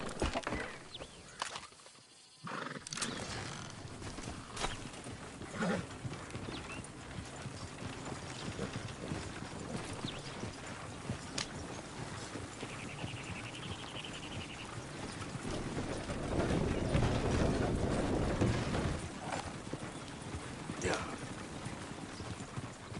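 Horse hooves clip-clop steadily in the Western video game Red Dead Redemption 2, set against wind and game ambience, with a voice speaking over the hoofbeats.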